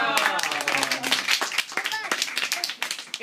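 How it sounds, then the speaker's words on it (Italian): A small group claps along during a comedic magic act with a rope trick, quick close hand claps mixed with overlapping excited talk and laughter. "Applauso."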